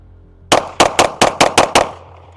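Seven rapid Arma Zeka AZ-P1 Vigil pistol shots fired in quick succession, loud and close, each sharp crack followed by a short decay, with a quiet pause before the string.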